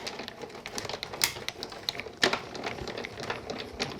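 Card stock cut with a craft cutter while making a Gemini cluster card, a faint run of small clicks and scratchy ticks with a couple of sharper snaps, close and quiet, no talking.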